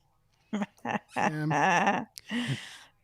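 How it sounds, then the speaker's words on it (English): A dog gives several short squeaky whimpers and yips, then a longer whining cry and one more squeak, fairly close and fairly quiet, with no talking over it. "if you're hearing that squeaky, it's just the doggy"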